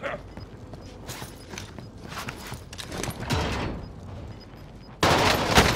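Gunfire in the video game Call of Duty: Modern Warfare comes as scattered sharp shots and bursts over a busy battlefield bed, ending in a sustained loud burst of heavy fire.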